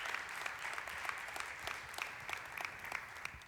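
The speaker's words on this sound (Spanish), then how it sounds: "Le da ese aplauso al Señor" Congregation applauding during a church ministry service, heard faint and distant as a soft, even patter of clapping with occasional sharper claps, no voice over it.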